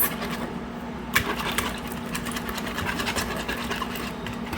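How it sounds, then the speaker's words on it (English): Eggs being whisked in a bowl make a rapid, continuous clatter of fast scraping taps, close and fairly loud, with a short sharper knock early on and no voices. "Do my little whiskey whisk. Get all the eggs broken up."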